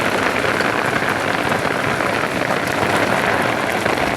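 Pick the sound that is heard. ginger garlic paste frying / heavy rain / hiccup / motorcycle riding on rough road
heavy rain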